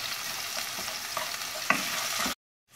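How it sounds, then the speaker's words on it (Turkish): Sautéed onions with tomato paste sizzle in a pan as a spoon stirs them, a close steady frying hiss with small scraping accents before the sound cuts off abruptly. "Kavrulan soğanlarımıza 1 yemek kaşığı salça ilave ediyoruz. Ve karıştıralım."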